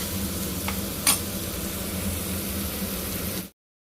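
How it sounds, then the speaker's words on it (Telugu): Onions frying in a pan for tomato egg bhurji, stirred through a steady close sizzle and hiss with a couple of brief spoon scrapes, cutting off abruptly near the end, no talking. "కొంచెం ఆనియన్ మగ్గేంత వరకు కలుపుకోవాలి."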